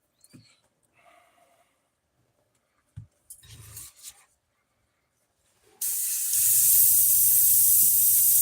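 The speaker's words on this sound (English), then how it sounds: "We're just going to blow this off right here because there wasn't much paint in there" Compressed air blasting off paint in a spray booth: faint scattered clicks and rustles first, then a short burst of air, then a loud, continuous hiss that lasts to the end.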